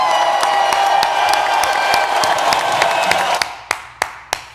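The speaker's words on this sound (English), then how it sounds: "Give them a round of applause." An audience claps and cheers for winning companies, a dense burst of applause that thins into a few loud, separate claps near the end.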